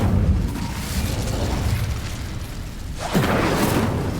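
An Incendio fire spell cast in Hogwarts Legacy, a loud roaring whoosh of flame with a fresh burst near the end, no talk.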